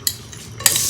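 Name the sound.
sauteing onions in ghee for jeera rice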